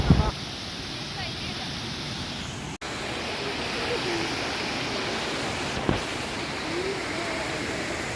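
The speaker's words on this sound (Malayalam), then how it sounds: "ഇവിടെ ഒരു നല്ല വെള്ളച്ചാട്ടമാണ്" Water pours over a waterfall near the top of a dam, making a constant rushing hiss with a couple of brief knocks, while someone speaks over it.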